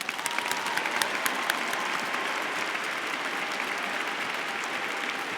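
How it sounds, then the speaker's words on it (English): A large graduation audience at a university psychology commencement gives sustained applause, a dense and even wash of many hands clapping at once, with a few brighter claps up front and no talking. "Please join us in a round of applause."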